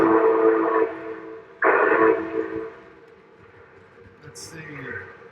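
Two loud blasts of a model train whistle, the second starting abruptly and fading away, followed by quieter layout noise and a faint high chirp.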